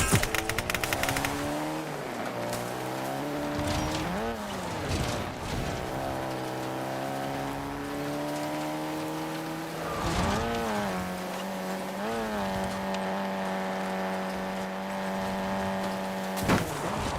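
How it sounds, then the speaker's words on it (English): Vehicle engine in the Warzone video game, a steady droning tone that shifts pitch as it approaches and changes speed, with sharp bursts of gunfire at the start and scattered later. "I heard the car come and I like bailed."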